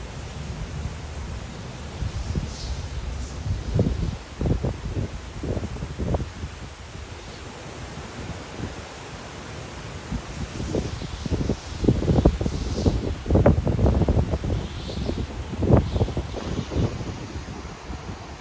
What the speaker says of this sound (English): Look at those trees. I'm just showing you how strong the wind is.